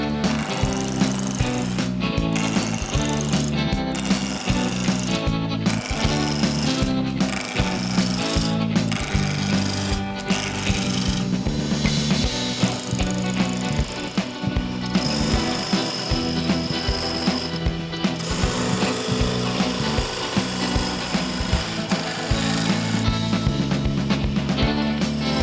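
A small piece of wood spins between centers on a lathe while a cutting tool roughs it round. The result is a continuous loud chattering rasp with a fast, rough pulse that stays close and steady throughout.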